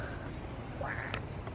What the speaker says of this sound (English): the birds won't shut up